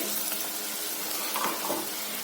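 Onions fry in a pan of lightly toasted fennel seeds and turmeric, giving a steady, bright, close-up sizzle with a few louder bubbling pops and no voices.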